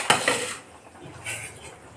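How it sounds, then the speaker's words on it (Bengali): A metal lid comes off a pot of simmering hilsa fish curry with a sharp clank and a follow-up clink, then faint rattles; no talking. "এবার ঢাকাটা খুলে দিচ্ছি"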